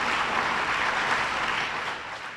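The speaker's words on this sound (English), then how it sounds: "Yes, round of applause." Audience applause after an interview with Senator David Ige in Honolulu, a steady, fairly loud wash of clapping hands that holds evenly before easing slightly at the end.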